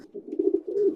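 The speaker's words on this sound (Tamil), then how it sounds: "இது புறாவோட சத்தம்." A pigeon coos close by, a low soft throaty call rolling through a few quick pulses in about a second.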